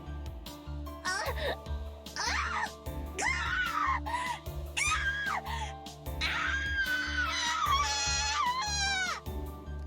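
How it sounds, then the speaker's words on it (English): A voice screams in anguish several times in a Fate/EXTRA CCC game scene, shrill strained cries rising and cracking over a steady low musical backing, loud and close throughout. "She really put everything into those screams"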